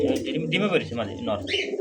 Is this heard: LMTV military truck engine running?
no